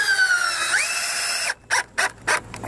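A power drill drives screws into the rafters of a wooden quail hutch: a long whining run with a pitch rise, then several short bursts close by.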